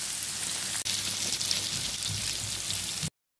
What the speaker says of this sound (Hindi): ये फ्राई पता भी चल रही है